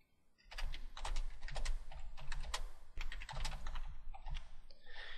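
Rapid typing on a computer keyboard entering a feedback comment, dense close key clicks in two quick runs separated by a brief pause, heard alone without talking.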